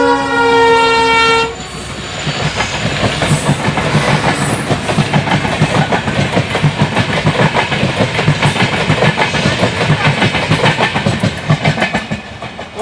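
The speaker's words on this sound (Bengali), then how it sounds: "দেখো এখনো বলতে বলতে ট্রেন চলে আসলো।" A tourist special train passing at a rural picnic spot: a loud horn blast opens, then a long rhythmic clickety-clack of wheels over rail joints as carriages roll steadily past close by.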